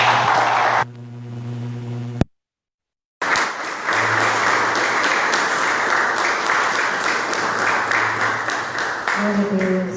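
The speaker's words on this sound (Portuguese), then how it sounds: "Uma salva de palmas para Jesus" Congregation applause for Jesus at a Brazilian evangelical missions service, broken by a brief cut to silence, then resuming as a long, steady wash of clapping with faint music tones and voices underneath.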